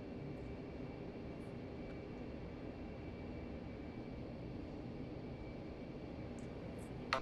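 A steady, even jet-engine roar from an F-15 on the runway in the DCS World flight simulator, constant broadband rumble held throughout with no talk, a brief click near the end.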